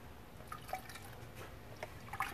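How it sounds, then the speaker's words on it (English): Water is poured and swirled in a container of ceramic glaze, making faint, scattered drips and small liquid splashes spread across a few seconds in a quiet room. "when I add water, I usually pour it in here first, swirl it around, and then I can dump that into there"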